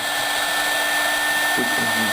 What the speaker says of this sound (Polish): teraz go znów będę suszył starą suszarką